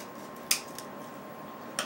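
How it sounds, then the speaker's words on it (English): Scissors making an angled cut on stems for a holiday brush bouquet: two quick, crisp snips about a second apart, close and fairly quiet over a faint background hum. "Okay, and I'm just going to cut. I'm going to give it like that angled cut."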